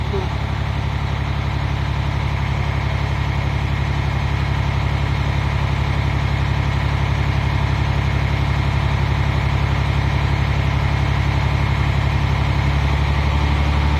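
A Cummins ISM diesel engine idles steadily through a cylinder cutout test, a constant low rumble with an even pulse that stays loud and close throughout, with a slight change in tone near the end.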